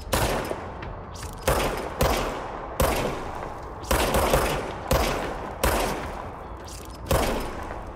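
A gun fires in the video game Control, with sharp bursts of loud shots repeating about every second in an uneven rhythm, each followed by a short decaying tail, with no talk.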